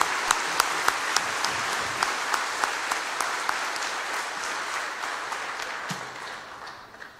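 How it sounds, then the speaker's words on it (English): A school assembly audience at a veterans salute in a high school gym claps in sustained, even applause, with a few sharp individual claps on top, slowly tapering toward the end. "So give yourselves a big round of applause"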